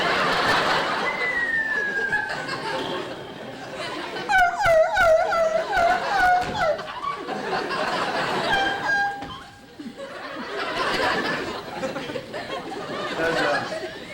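A man imitates a barking dog on a variety show stage, giving yelps and whimpering cries that rise and fall in pitch, amid audience laughter and chatter.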